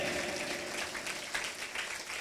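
Church congregation applauding during a Sunday sermon, a dense, steady wash of clapping that fills the whole moment without pause, loud and close with no talk over it.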